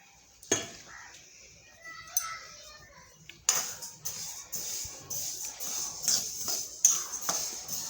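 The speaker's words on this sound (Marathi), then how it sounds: "आता आपण तीळ टाकून भाजून घेऊ" Sesame seeds roast in a hot kadhai on a gas stove while a spoon scrapes and stirs, giving soft rattling and clinking strikes over a light sizzle that grows busier after a few seconds.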